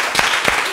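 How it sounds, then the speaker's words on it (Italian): A class of students in a school event gives a short burst of dense clapping, a brief close wash of applause. "Altro applauso a Daniele."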